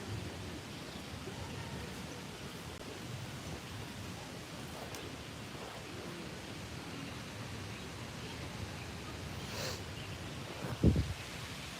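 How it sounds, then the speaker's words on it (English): Steady rain falls in sunshine outdoors, a continuous soft hiss of drops throughout, with a brief closer thump near the end and no clear talk. "the sun is out and it's raining"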